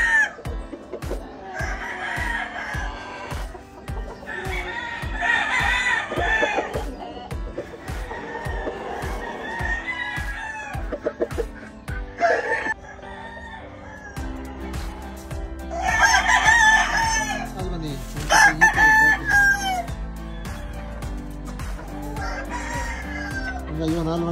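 Yellow-legged Albany Kelso roosters crow several times over clucking hens and other farmyard noise, loud and close, with someone talking in Spanish in between.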